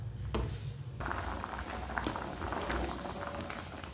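Potatoes half-boiling in a pot of water give a steady low bubbling and rumble. A faint clatter is heard now and then, close by, and it lasts throughout.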